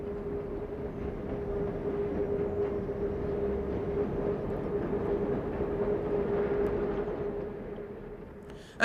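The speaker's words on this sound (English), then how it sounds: "the morning train from Villefranche to La Tour de Carol enjoys a few minutes respite" Train rolling along the mountainous Cerdagne line in France between Villefranche and La Tour de Carol, a steady low rumble with a droning tone held throughout, moderately loud and unbroken, ending with a brief knock.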